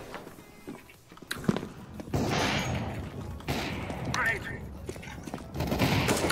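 Gunfire in an online shooter game, a few sharp shots and a burst of firing among footsteps and thuds, with players talking over the action.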